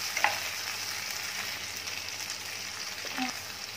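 Tomatoes and green chilli frying in a pan for prawn biryani give a steady, soft sizzle, with a few light scrapes of stirring.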